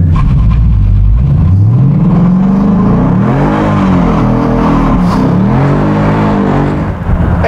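A 2017 Ford Mustang GT with the Performance Package revs hard with the line lock on, its engine note climbing and sweeping loudly and steadily from start to finish, close up and with no talking.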